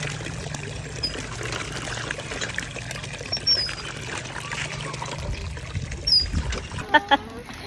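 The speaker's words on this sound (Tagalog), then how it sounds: "Pinupuno namin yung swimming pool ba." Water pours steadily in a continuous splashing stream, filling a swimming pool, with a few bird chirps and faint background voices.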